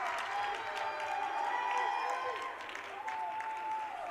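Crowd cheering and clapping during an M3 playoff semifinal between MTSU and Tampa as a player rouses the fans, a sustained roar with whistles and shouts while a commentator talks over it.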